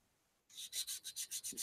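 A flat edge is sanded by hand at a workbench, giving about nine quick, even rasping strokes close up, with a short pause before the first.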